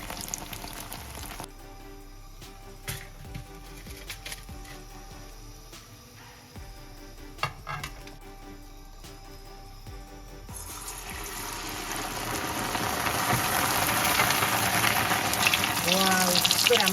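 Sugar-free sel roti, made with sweetener, frying in hot oil: a quiet stretch of clinks and light bubbling swells into a loud, continuous sizzle in the second half, with someone speaking at times.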